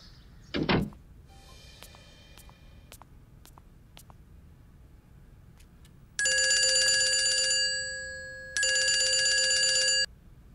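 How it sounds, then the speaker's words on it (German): A telephone bell rings in two long, loud electronic bursts with a short gap between them, after a brief thump and a few faint clicks in an otherwise quiet room. "Raghuveer hat angerufen"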